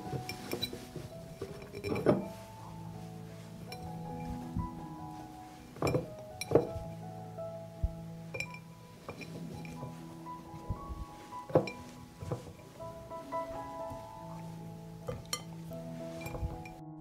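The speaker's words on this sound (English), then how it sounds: "I put tomatoes in a jar." Glass jars clink and knock against each other while tomatoes are packed into a jar. Scattered sharp, ringing taps and short chimes sound close by over a quiet kitchen background.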